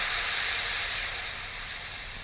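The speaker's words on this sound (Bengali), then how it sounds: "আবারও একটু জল দিয়ে দেবো সিদ্ধ হওয়ার জন্য" Steam hisses loudly and continuously from a pan of cooking mustard greens just after water is added, a broad close sizzle that slowly fades a little, with no talking.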